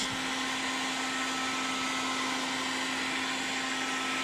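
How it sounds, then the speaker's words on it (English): A heat gun on a mid-range setting blows hot air onto bearing bushing caps for a Mercedes W202 axle, giving a steady, close, loud whooshing roar with a constant motor hum and no pauses. "So take your heat gun on a mid-range adjustment"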